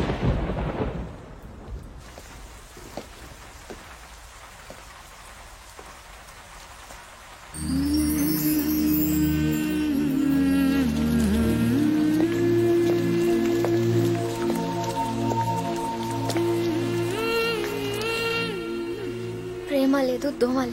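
Steady rain falls throughout a film scene, with rumbling thunder-like noise and a swelling musical score entering partway through.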